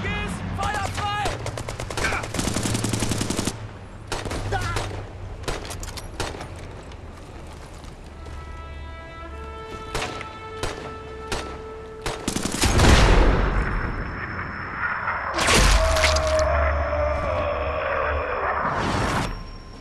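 Gunfire in the first-person shooter Brothers in Arms 3, with loud bursts of automatic fire and single shots repeating across the scene, mixed with game music tones and booming impacts, with brief voice lines.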